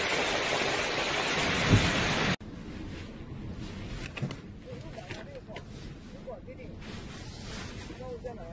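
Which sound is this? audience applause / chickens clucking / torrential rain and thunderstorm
torrential rain and thunderstorm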